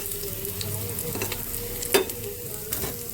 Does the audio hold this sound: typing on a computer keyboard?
no